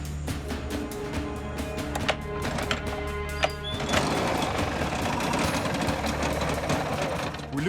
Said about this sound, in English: The motor won't start.